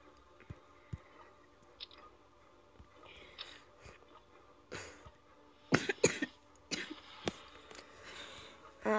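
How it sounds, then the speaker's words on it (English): Several short coughs and throat-clearing bursts sound close by, scattered irregularly over faint clicks, with a tight cluster of louder coughs toward the middle and end. "I wasn't meant to cough then. I just coughed."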